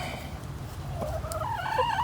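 Backyard chickens cluck softly in a small home orchard, their short calls rising over a steady low background rumble.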